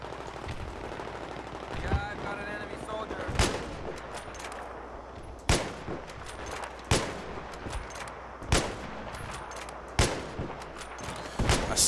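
Sniper and other gunfire in Battlefield 3 on Damavand Peak during a team deathmatch, sharp loud shots spaced a second or two apart over rattling background fire, with a player talking between them.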